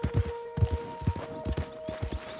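Horse hooves in Red Dead Redemption 2 clip-clop in a steady trotting rhythm, close and moderately loud, over a faint steady tonal hum.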